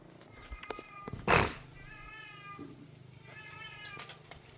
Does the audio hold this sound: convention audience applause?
no